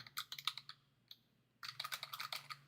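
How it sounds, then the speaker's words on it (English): Keys clicking on a mechanical keyboard as someone types: a quick run of sharp, close clicks, a brief lull with a couple of isolated taps, then another dense burst of fast typing. "You can hear the keys clicking."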